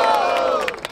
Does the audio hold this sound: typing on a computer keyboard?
no